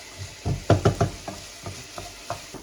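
Softened vegetables sizzling in a pan for a tomato pasta while being stirred, a series of scraping, clattering stirs over a light frying hiss, close and fairly loud, with no talking.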